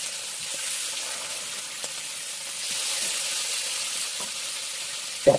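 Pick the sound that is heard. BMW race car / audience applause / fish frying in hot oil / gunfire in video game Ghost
fish frying in hot oil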